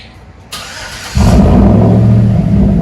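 A Chevy Avalanche with a 5.3L V8 and a dual exhaust setup starts up and settles into a loud, steady rumble close by, with no one talking over it.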